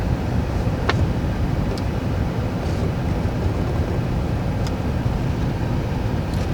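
A 2002 Chevy Avalanche LS 1500 with a 5.3L Vortec gas engine and four-speed, condition burning oil, idles after a cold start, giving a steady loud low rumble with no talk.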